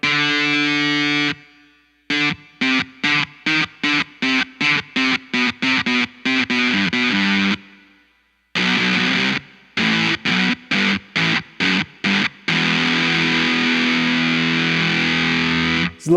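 Distorted electric guitar through a BOSS NS-1X noise suppressor with the decay turned down, rapid chopped chords cut off abruptly between hits, leaving tight gaps and short silences, loud and dry with no talking.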